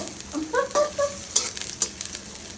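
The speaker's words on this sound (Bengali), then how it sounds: "এখন পেঁয়াজ কাটা দিলাম, ওটা তেলের মধ্যে একটু ভেজে নিতেছি।" Chopped onion frying in mustard oil, a steady close sizzle with a few stirring scrapes and spoon clinks breaking through.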